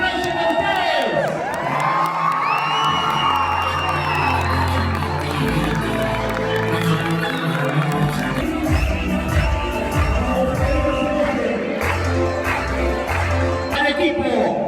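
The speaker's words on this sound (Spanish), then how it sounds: "Este es el aplauso para ustedes." A lively stadium crowd at a sports match cheers, whoops and claps, with a loud announcer's voice over a dense, sustained roar of the crowd.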